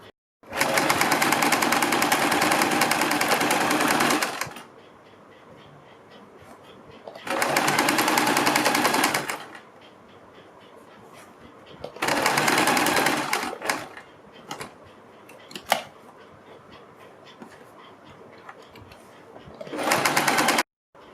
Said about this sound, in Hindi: किनारे से थोड़ा सा हट के इसके ऊपर एक सिलाई लगाएंगे